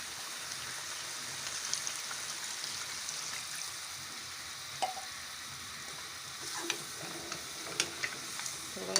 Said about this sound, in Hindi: अब थोड़ा सा पानी ऐड कर रही हूँ शोरबे के लिए।